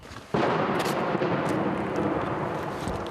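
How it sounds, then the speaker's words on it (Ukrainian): A sudden heavy boom from artillery fire near Bakhmut, Russian shells and outgoing guns, followed by a sustained rumbling roar that slowly fades over a few seconds. "Вибухи російських снарядів повсякчас перемішуються із виходами наших гармат"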